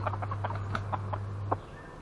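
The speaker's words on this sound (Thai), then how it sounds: "ไก่หนุ่มอีกตัวหนึ่งครับ" A young rooster at a Thai home flock of show fowl gives a run of short, rhythmic clucks, about eight evenly spaced calls over two seconds, moderately close, with a steady low hum running beneath and no talking.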